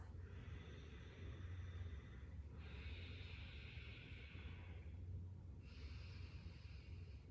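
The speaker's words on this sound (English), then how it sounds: "You notice my breath starts to make this sound. It's almost like ocean waves or a Darth Vader sound." Slow, controlled Ujjayi yoga breathing through a constricted throat, with long smooth inhales and exhales giving a soft, ocean-like hiss that swells and fades in steady cycles, close and alone.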